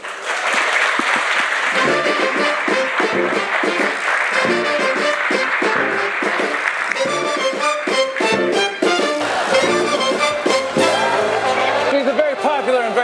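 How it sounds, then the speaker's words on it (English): A comedy roast and show audience gives a big, loud round of applause for a comedian, sustained clapping throughout with some shouts and whoops, and music rising under it in the second half. "y'all give a big round of applause for Jason Earls."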